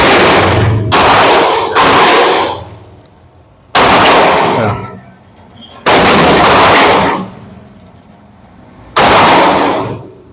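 Maxim Defense PDX rifle in .300 Blackout fires single shots on a range, five or six loud, close sharp cracks each followed by a ringing decay, spaced irregularly about one to three seconds apart.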